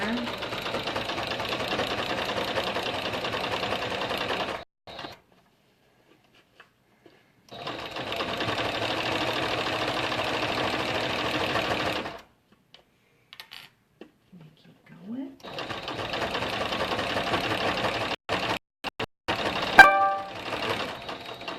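A home sewing machine stitches quilt-as-you-go blocks together using a built-in decorative stitch, running in three steady bursts of several seconds each, separated by pauses with faint handling clicks.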